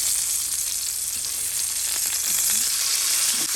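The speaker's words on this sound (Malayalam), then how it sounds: "പാൻ ചൂടാക്കി കുറച്ച് കോക്കനട്ട് ഓയിൽ ഒഴിച്ചു കൊടുത്ത് വെയിറ്റ് ചെയ്ത് വെച്ചേക്കുന്ന ഫിഷ് അതിലേക്ക് ഇട്ടൊന്ന് ഫ്രൈ ചെയ്തെടുക്കാം" Sardines sizzle in hot coconut oil in a pan, a dense, steady frying hiss running loud and close throughout with faint scrapes, no voices.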